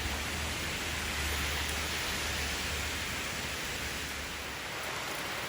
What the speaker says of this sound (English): It's super rainy and wet down there.